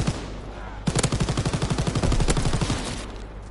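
Bursts of rapid automatic gunfire from the World War II shooter Call of Duty WW2, loud and close, a fast rattling string of shots that starts abruptly and runs for a few seconds before easing off.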